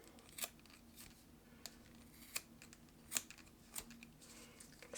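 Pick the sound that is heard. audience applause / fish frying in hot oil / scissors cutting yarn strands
scissors cutting yarn strands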